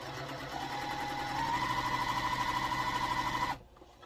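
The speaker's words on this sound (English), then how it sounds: "we're going to sew down the long edge" A domestic sewing machine stitching the long edge of a quilt block, a fast steady whirring hum that picks up speed and holds, then stops abruptly near the end, heard close and fairly quiet.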